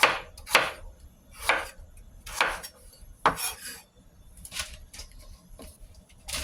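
A knife chops through pumpkin onto a board, cutting it into cubes in a series of about seven distinct, fairly loud strokes spaced roughly a second apart.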